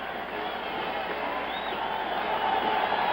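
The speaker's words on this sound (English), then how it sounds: "Their fans are giving him a standing ovation." An Oakland Raiders football crowd gives Joe Namath a standing ovation, a steady dense roar of distant applause and cheering that holds evenly and swells slightly toward the end.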